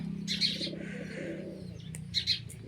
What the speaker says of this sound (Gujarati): આમાં જંગલી કબૂતર પણ ઝાઝા છે